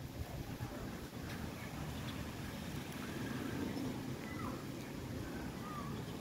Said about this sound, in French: En ce moment, c'est venteux.